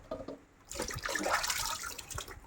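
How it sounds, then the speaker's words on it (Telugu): Raw mangoes washed by hand in water, with splashing and running water swelling up after a short pause, close and fairly quiet. "కాయలన్నీ నీట్గా కడిగి పక్కన పెడుతున్నాము"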